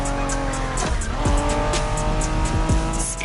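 A Honda NSX sports car from the 1990s races in a driving video game, engine droning loudly with several rising and falling revs as tires squeal through corners.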